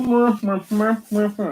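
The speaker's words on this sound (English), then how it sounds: "If I put on a mask, you won't be able to hear me very well." A voice talks in short, dull, muffled bursts through a face mask, close and fairly loud.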